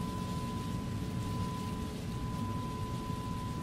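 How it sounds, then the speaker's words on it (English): Steady rain noise from the Microsoft Flight Simulator game during an Aer Lingus A321neo flight from Dublin to Manchester, a dense even hiss with a low rumble beneath and a faint constant tone, no talking. "The rain noise is very bizarre in this game"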